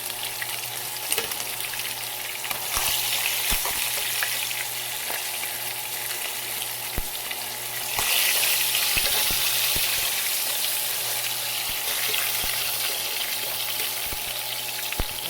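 Fish frying in hot oil for a potato and fish curry, a steady close sizzle with faint crackles and occasional clinks of a strainer lifting pieces out, no talking.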